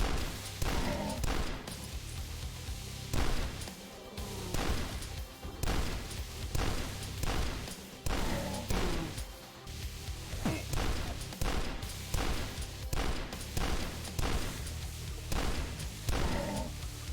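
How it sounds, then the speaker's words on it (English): Double shotgun blasts in the retro shooter Dusk, heavy repeated booms at a regular pace roughly every second over loud metal music, with enemy impacts mixed in. "you're going at it with both your shotguns"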